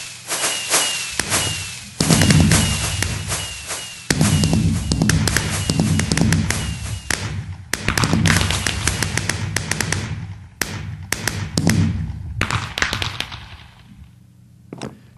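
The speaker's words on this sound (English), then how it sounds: "We'll launch the second round and watch again." Minecraft fireworks fired from dispensers in a game, a dense volley of sharp crackling pops and bursts overlapping for most of the stretch, loud and close, thinning out toward the end.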